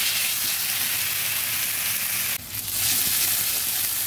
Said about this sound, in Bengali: পেঁয়াজটাও ভালোভাবে ভেজে নিচ্ছি।